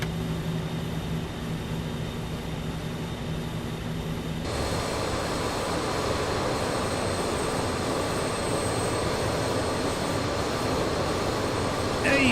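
Jet airliner taxiing in Microsoft Flight Simulator 2024, a steady broadband engine hum and rumble that thickens and brightens partway through as thrust rises, continuous and fairly loud with no talk.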